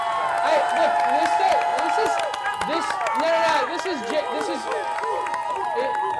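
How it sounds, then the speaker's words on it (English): Excited crowd at a blockchain conference cheering and clapping for a creator, a dense steady roar of voices and hand claps with shouts rising throughout. "this crowd of people being this excited about a creator"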